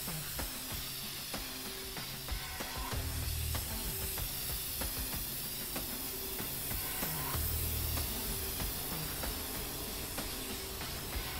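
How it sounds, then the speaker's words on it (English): Steady hissing of an aerosol can spraying stencil art in inFAMOUS Second Son, a continuous airy spray over a low rumbling game background with occasional soft clicks. "And an aerosol can. Nice. Stencil art completed."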